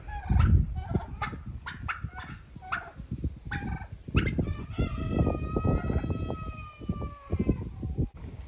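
Turkeys and chickens on a poultry farm call over soaked bread, with repeated gobbles and clucks, close and busy, and a long rising crow-like call in the middle.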